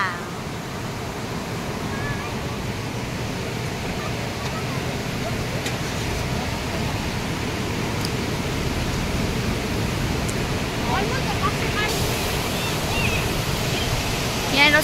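A river stream in south Rigu, Sikkim rushes in a constant broadband roar, near and loud, with a few faint clicks over the flow.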